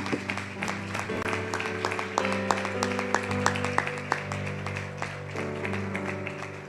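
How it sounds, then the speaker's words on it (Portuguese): A church congregation claps in a steady, rhythmic applause with sharp individual claps standing out, while sustained music or organ tones play underneath. "Vamos aplaudir ao Senhor, irmãos."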